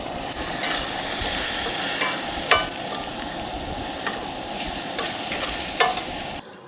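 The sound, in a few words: tortilla shells heating and sizzling on grill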